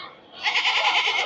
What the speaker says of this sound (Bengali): এই যে খাসি ছাগল